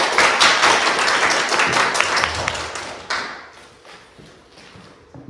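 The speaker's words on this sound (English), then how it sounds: "Big round of applause." Audience applause at a Toastmasters public speaking meeting, a short burst of nearby clapping from a small room that peaks early, then thins to scattered individual claps as it dies down.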